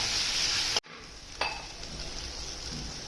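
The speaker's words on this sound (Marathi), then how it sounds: "आता चांगलं तेल सुटेपर्यंत परतून घ्यायचं आहे" Tomato puree masala sizzles in hot oil for an egg curry, a bright steady frying hiss that cuts off abruptly, then resumes more quietly with soft stirring clinks.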